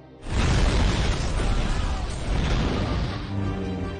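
A loud explosion in a Jason Statham action film bursts in abruptly and roars on as a sustained rumbling blast, with debris-like crackle fading slowly.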